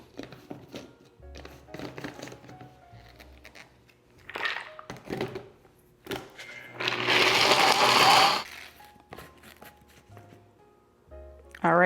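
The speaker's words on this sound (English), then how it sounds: "you're just gonna blend this up until it's really creamy and those cashews are completely pulverized" Countertop blender whirring loudly for a few seconds as it purees cashews into a smooth cream for a plant-based dessert, surrounded by intermittent clatter and handling noise.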